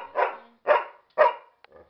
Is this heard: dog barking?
yes